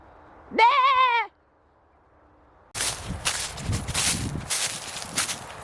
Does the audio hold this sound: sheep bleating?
yes